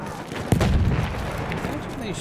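A single distant artillery cannon boom thumps once in a Battlefield 1 multiplayer battle on the Meuse-Argonne front, followed by a rolling rumble under continuous battlefield din and someone talking.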